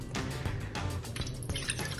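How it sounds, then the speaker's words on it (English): Water poured from a container into a saucepan, a loud close splashing gush with bubbling and glugging pulses, alone without talk. "we're going to go ahead and add our water to our saucepan"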